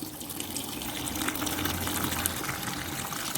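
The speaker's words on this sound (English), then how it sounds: "So I've got some water here I'm going to pour in." Water gushes steadily into a pot of pigeon, vegetables and meat for broth, a close, continuous splashing pour with no talking.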